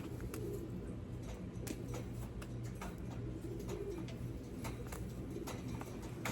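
Pigeons coo softly in the background amid a busy outdoor hum at a pigeon loft, with scattered flapping and clicking sounds throughout.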